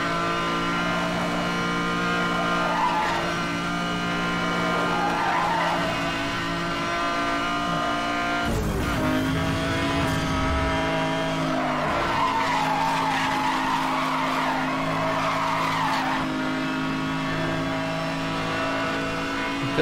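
A McLaren F1 in the Need for Speed Hot Pursuit Remastered racing game holds a loud, steady engine drone through a time trial, with tyre skidding and a sharp burst of impact or scraping midway.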